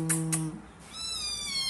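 Kittens meowing while being fed meat at home, two short high-pitched mews followed by a longer, drawn-out meow, fairly close and moderately faint.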